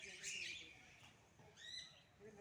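Birds call in a deer park forest near Sambalpur, with a few bright chirps and short squawks at moderate distance over a low outdoor hum, plus faint human voice nearby.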